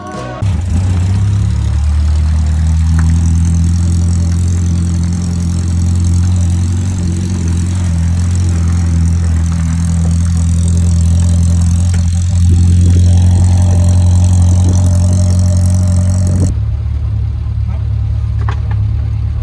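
A 1965 barn find car runs on its first start after more than 40 years with an out-of-adjustment carburetor. The engine holds a loud, steady, rough idle nearby, surges briefly midway, then drops off suddenly.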